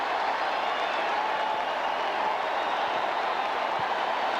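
Dense, steady roar of a large stadium crowd cheering for the Raiders at a 1990 preseason football game against the 49ers, a broad continuous wash of noise without distinct voices.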